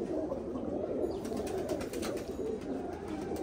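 Pigeons of a high-flying breed cooing in a loft in winter, a steady low murmur of coos close by with some faint higher chirps and wing sounds mixed in.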